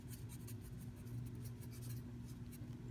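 Pen scratching on paper while writing math notes, soft intermittent strokes over a steady low room hum.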